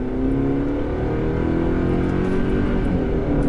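A 2023 Chevrolet Colorado work truck with its base engine accelerates at full throttle from inside the cab, a loud, sustained engine drone rising steadily in pitch over several seconds, with no talking.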